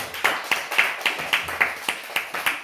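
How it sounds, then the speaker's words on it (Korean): A church congregation claps together in a steady, even rhythm, about ten sharp claps spaced roughly evenly, close and clear with no talking over them. "우리 부활하신 주님께 우리 다 같이 박수."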